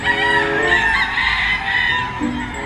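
A rooster at a gamefarm crows once, loud and close, its strained, drawn-out call filling the whole short stretch with no talk over it.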